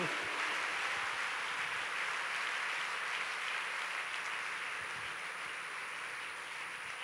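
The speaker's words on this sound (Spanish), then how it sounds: "¿Por qué no le das un aplauso a este Cristo maravilloso?" Congregation applauding at the closing of a 2015 youth convention in a church, a continuous even roar of clapping like rain, steady and fairly distant, with a faint high tone above.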